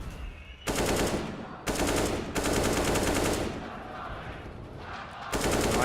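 Counter-Strike gunfire during a professional match, loud rapid bursts of automatic fire repeating several times in quick succession, with brief gaps between bursts.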